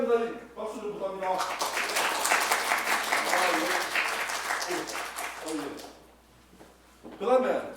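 An audience claps at a Korean event, a dense burst of applause lasting several seconds that fades out, with a voice speaking over it at the start and again at the end.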